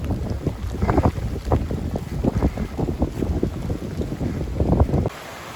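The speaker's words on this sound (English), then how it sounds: "I don't know if you can hear the wind going or not, but it's whistling through these trees." Wind gusting and roaring through trees during a driving rainstorm in a canyon on the Benton MacKaye Trail, heavy buffeting rumble against the microphone, continuous and close, no talking.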